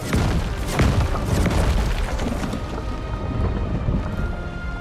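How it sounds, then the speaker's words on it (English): An approaching storm in a video game brings a deep rolling boom of thunder over a constant roar of wind and rain, loud and continuous throughout. "Une tempête approche."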